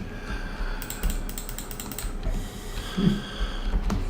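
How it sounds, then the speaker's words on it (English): Keys clatter on a computer keyboard during play of the online game Lord of the Rings Online, a steady stream of soft clicks over a low background hum. "I'm really bad with the keyboard controls nowadays."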